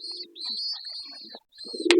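A pigeon coos softly inside a cage in short, low murmuring phrases, with brief higher chirps and a sudden flutter at the end.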